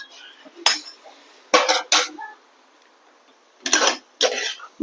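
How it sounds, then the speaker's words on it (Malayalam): A frying pan is set down on a stovetop while preparing a Kerala-style country chicken curry masala, giving a few sharp metallic clanks and clatters in separate bursts, close and fairly loud, with quiet pauses between. "ഒരു ചീനിച്ചട്ടി വയ്ക്കുക."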